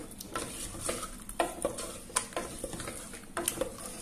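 A spoon stirs garam masala into a biryani mixture of meat and parboiled rice in a pot, with repeated scraping and clanking strokes over a faint sizzle.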